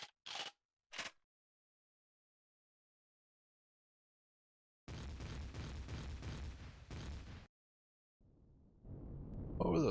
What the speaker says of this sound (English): What were those explosions about?